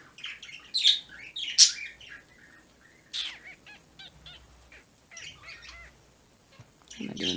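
A pet bird chirps and squawks in several loud, sharp bursts with pauses between them, recorded close by indoors.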